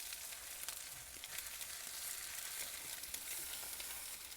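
An egg fries in oil in a pan, a steady, close hiss and sizzle with small crackling pops throughout and no talking.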